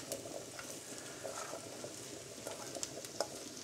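Bacon frying in butter in a Dutch oven makes a soft, continuous sizzle with scattered small crackles and pops, fairly quiet and with no talking.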